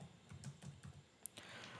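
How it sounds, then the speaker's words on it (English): Quick, soft keystrokes on a computer keyboard, a short run of clicks fairly close but quiet, with no voices. "So let me just type Google Drive."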